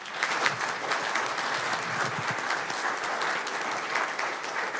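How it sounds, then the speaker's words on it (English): A crowd at a county board of supervisors meeting claps steadily for several seconds, dense and even applause filling the room without pause. "If we give Kimberly Craig a round of applause as well."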